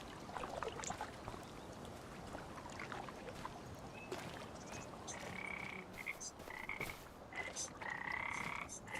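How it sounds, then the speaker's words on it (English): Frogs croak in a rural farm setting in the video game Farming Simulator 25: a dense chorus of overlapping, rhythmic calls over soft ambient background, with no talking. "I love the sound of the frogs."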